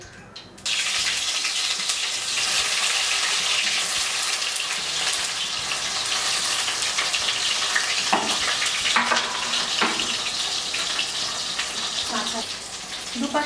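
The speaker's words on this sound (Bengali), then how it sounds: "কড়াইটা গরম করে নিয়ে সর্ষের তেল দিয়ে কলাগুলোকে ভেজে নেব" Continuous loud sizzling and crackling of raw banana frying in hot mustard oil in a wok, with occasional scrapes and taps of a utensil in the pan.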